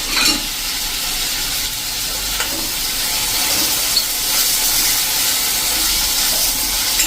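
Tomato dropped into a sizzling onion tempering for a mung bean and fenugreek seed curry, with steady loud frying hiss and brief stirring scrapes throughout, no voices.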